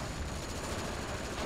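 Dense, continuous battlefield gunfire in Company of Heroes (Europe at War mod skirmish), a steady wash of overlapping rifle shots and rumbling noise with no clear gaps.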